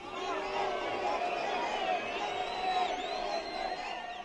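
Crowd of supporters of the common Czech-Slovak state gathered at a rally, a dense murmur of many voices with faint whoops and cheers, heard at a moderate distance.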